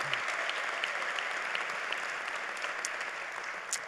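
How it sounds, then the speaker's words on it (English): Graduates of the class of 2021 applaud at a commencement ceremony, a dense wash of clapping heard from a distance and fairly faint, continuing evenly without any voice over it. "give yourselves a round of applause"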